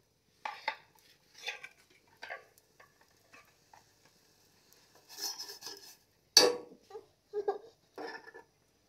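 Pots and utensils clatter in a home kitchen in scattered bursts of clinks and scrapes, with one sharp metallic bang partway through, moderately close.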